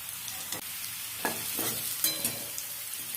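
Vegetables frying in oil with turmeric give a soft continuous sizzle, broken by several scraping stirs of a spatula in the pan; no one speaks.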